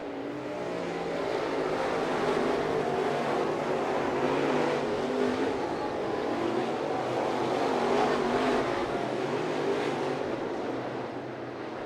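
Crate late model race cars roaring around the dirt oval at East Bay Raceway Park, a steady loud engine drone swelling and fading as the pack passes, with no talk over it.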